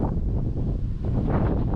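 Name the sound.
wind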